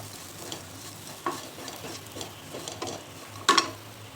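Onion and turmeric sautéing in a pan, with a faint ongoing sizzle and spoon stirring scrapes, topped by a sharper clatter just before the end.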